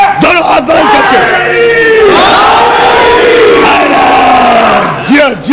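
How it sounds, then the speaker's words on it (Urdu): A large majlis crowd roars the Naara-e-Haidari slogan in reply, loud massed shouting with rising and falling chanted cries that swell and overlap, filling the space with voices. "میرا بھائی نعرہ لگائے گا، باہر تک کا مجمع مل کر تاریخی جواب"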